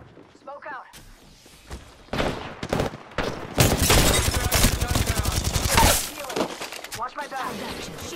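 Gunfire in Apex Legends: after a few scattered shots, a sustained loud burst of rapid automatic fire and impacts fills the middle, then fades back to sporadic shots, with game voice lines in between.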